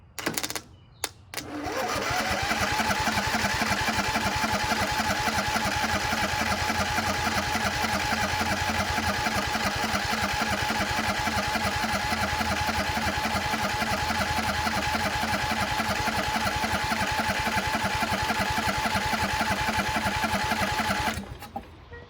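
An old riding mower engine, sitting unused for many years, cranks briefly then catches and runs on its own fuel, holding a steady, loud, rough idle for about twenty seconds before cutting off.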